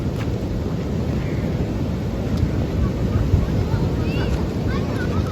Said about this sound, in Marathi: समुद्र एवढा खवळला ना बाबा